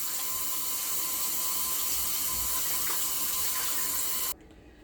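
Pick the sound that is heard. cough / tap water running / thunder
tap water running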